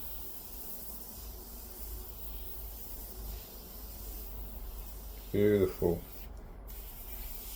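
Airbrush spraying candy paint onto a Sith Blood Trooper figure, a faint, steady airy hiss throughout, briefly interrupted by a short spoken word.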